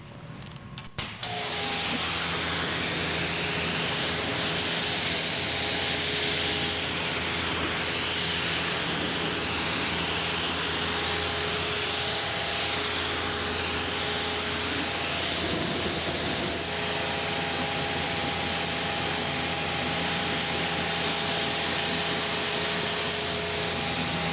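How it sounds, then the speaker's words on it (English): Pressurized water sprays steadily in a loud, continuous hiss, rinsing grime off a Porsche Macan EV, with a faint mechanical hum underneath throughout. "So we're just gonna go through a quick rinse here, get as much of that grime off as we can"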